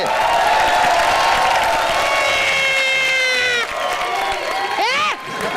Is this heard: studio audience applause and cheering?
yes